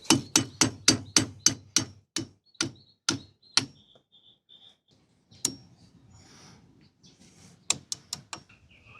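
Metal parts are worked off a boat trailer wheel hub during a rebuild, heard as a quick run of sharp, evenly spaced taps and knocks, then a pause with small clinks, followed by a few more sharp hits.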